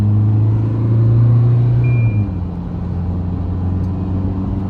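A car with an automatic transmission revs steadily, a loud sustained engine drone that climbs and holds for about two seconds, then settles into a lower, rougher hum at speed.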